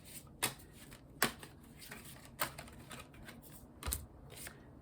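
Playing cards are riffled in a few quick, crisp bursts spread through a quiet room, each flurry short and close with soft pauses between.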